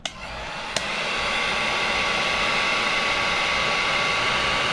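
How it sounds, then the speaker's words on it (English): A heat gun blowing hot air to shrink tubing on a sealed crimp connector, a steady, loud fan roar that starts after a couple of short clicks and runs continuously to the end. "Then you're just gonna heat it up evenly. Best to use a heat gun."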